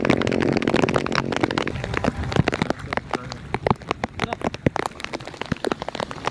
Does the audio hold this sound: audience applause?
no